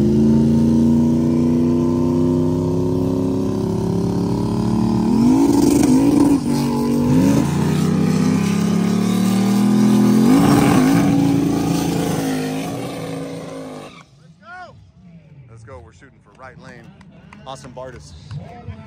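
No prep drag race cars roar loudly down the strip with rising engine revs and gear changes over about fourteen seconds, then fade to distant crowd noise and chatter.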